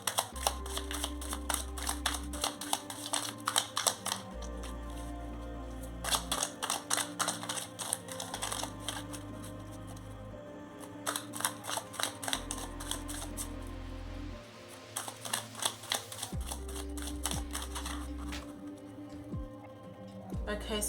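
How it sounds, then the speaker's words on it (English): Tarot cards being shuffled by hand during a card reading, repeated bursts of crisp riffling and tapping separated by short pauses, close and fairly quiet, with low background tones underneath. "Okay, so let's begin the shuffle."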